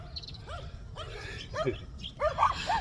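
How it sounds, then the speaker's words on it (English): Several small dogs bark and yip in short, rising bursts outdoors, growing louder and busier toward the end over a steady low background rumble. "Good dogs, little tiny ones."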